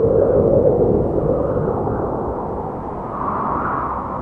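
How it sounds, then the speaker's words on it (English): Wind blows steadily in a low, continuous rush that swells and fades slightly, with no other sounds. "Sound number 3 is the blowing wind."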